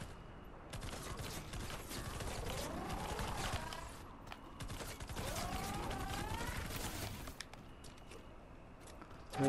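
Reloading a new gun in Fortnite: a busy run of clicking, ratcheting mechanical clacks and metallic slides in two long bursts, fairly loud and continuous, with no talking.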